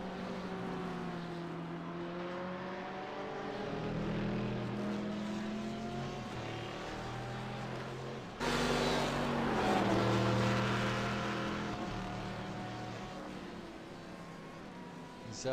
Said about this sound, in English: Here's Corey coming out of the pits, just you can see in the background just there